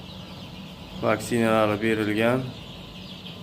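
Andijan black chicks cluck and cheep in a short burst of harmonic calls that rise over a quiet background, with someone speaking alongside them.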